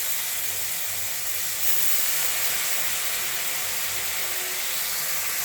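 Potatoes taken from water and added to a hot pan with spices over a low flame, giving a steady, soft hiss of sizzling oil and steam that holds evenly and close throughout, without voices.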